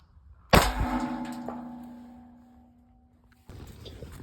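A single .45 ACP round strikes a water heater, giving one sharp metallic clang that rings and slowly decays for a few seconds before a rustling noise takes over.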